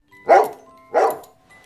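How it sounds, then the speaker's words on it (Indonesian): A dog named Sawako gives two sharp, close barks about half a second apart, with a faint third yelp trailing off, alone without talk. "Sawako juga terus menggonggong sejak bertemu pria tersebut"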